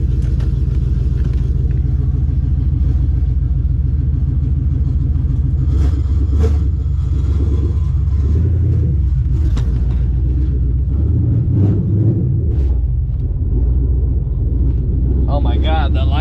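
A Coyote V8-swapped SN95 Mustang drives along with a deep, steady engine rumble, heard close from inside the car. Its pitch swells and dips with the throttle under a voice talking.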